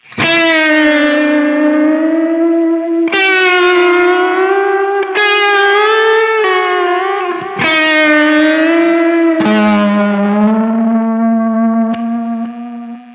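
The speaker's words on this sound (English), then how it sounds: "we'll hear how huge a difference this is now when I rock the tape speed back and forth" Sustained electric guitar notes drenched in tape delay on a Line 6 Helix, their pitch swooping up and down in slow warbling ramps as the tape speed is rocked, several strums in a row, loud and continuous.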